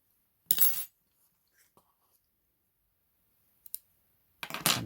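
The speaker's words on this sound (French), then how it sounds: "à couper le fil." Scissors snip crochet yarn in a quiet room: a crisp cut near the start, a few tiny faint ticks, then another sharp snip at the end.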